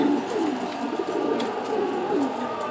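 Male red checker racing homer pigeons cooing in a loft, soft repeated throaty coos rising and falling close by, with faint rustling in the background.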